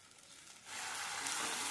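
Tomato, ginger and spice paste frying in oil on a medium gas flame, a faint hiss that swells suddenly into a steady, bright sizzle.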